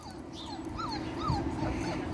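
A Vizsla puppy whimpers and yips in a few rising, whiny calls over steady low background noise outdoors in a backyard.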